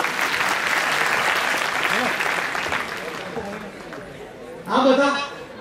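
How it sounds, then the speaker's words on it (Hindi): An audience at a public event breaks into applause that fades out over a few seconds, and then a voice speaks near the end. "एक और तालियां दे दूंगा।"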